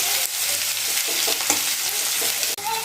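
Sliced onions browning in hot oil in a pan, a loud, continuous sizzle broken by repeated scraping strokes of a spatula stirring them.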